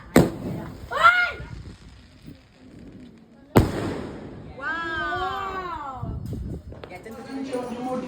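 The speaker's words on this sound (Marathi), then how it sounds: "फटाके जाम वाजवलं." Two sharp firecracker bangs a few seconds apart on Diwali's Lakshmi Puja night, each followed by crackling, with people talking nearby between and after them.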